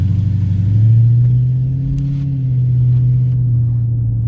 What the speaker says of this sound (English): I've been enjoying the exhaust notes on this car